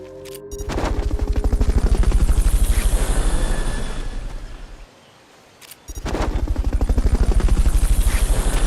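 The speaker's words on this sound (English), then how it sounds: "Fulton recovery helicopter is complete." In the video game Metal Gear Solid Peace Walker, a Fulton recovery helicopter gives a loud, steady rotor thump that dips briefly and then resumes at full strength, with no voices.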